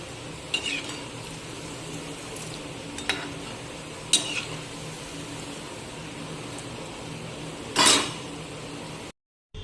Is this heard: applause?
no